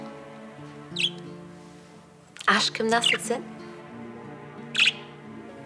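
Pet budgerigars give a few short, high chirps, one near the start and one near the end, fairly faint indoors, with a person talking in between.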